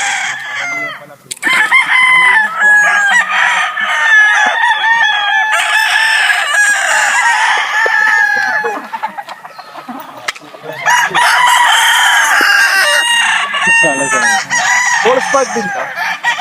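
Hatch gray gamefowl roosters at a game farm crow loudly and repeatedly nearby, with overlapping calls and clucks from several birds, while a voice talks briefly among them.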